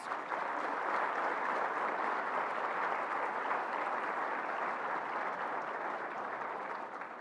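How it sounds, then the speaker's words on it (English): A crowd at a community colleges awards dinner applauds the sponsors steadily, a dense wash of clapping that holds evenly for several seconds before easing slightly at the end. "Please join me in a round of applause for all of our sponsors."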